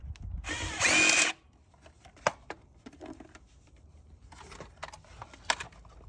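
A power drill backing screws out of an EV charger box, one loud whirring burst at the start followed by quieter clicks, taps and handling of the screws and casing.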